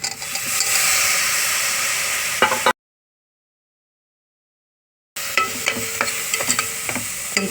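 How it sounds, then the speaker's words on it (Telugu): Tomatoes fry in a pan for a tamarind-leaf mutton curry, with a steady loud sizzle and stirring scrapes that drop out completely for a moment, then return with clinks of the spoon. "ఇప్పుడు టమాటాలు వేసుకుందాం."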